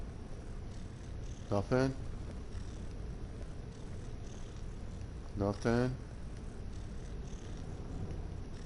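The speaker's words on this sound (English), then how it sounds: "You just hear a purring scritch." A cat purrs in the video game Skyrim in two short, rough bursts several seconds apart, heard over a constant low background and brief spoken voice.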